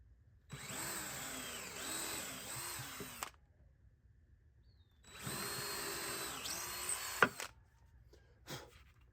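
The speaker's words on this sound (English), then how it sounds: "I'm gonna drill 2 more for this top 2x4" Power drill boring pilot holes into treated 2x4 lumber, two separate bursts of steady whirring a few seconds each, close and alone, with a brief clunk between and after.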